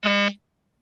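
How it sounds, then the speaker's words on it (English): A single short electronic buzz from a Discord notification sounds once, loud and close, lasting about a third of a second before silence. "And what is that beeping?"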